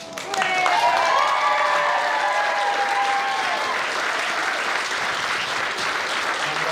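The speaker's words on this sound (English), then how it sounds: "A massive round of applause for the stars of the show." Wedding guests applaud the page boy and flower girl with a loud, dense, sustained round of clapping, while voices and cheers rise over it early on.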